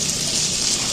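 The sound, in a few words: water poured onto atap rice for soaking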